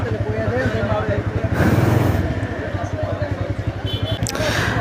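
A motorcycle's exhaust drones steadily at high speed on a foggy road, with rushing wind noise, while a voice talks over it.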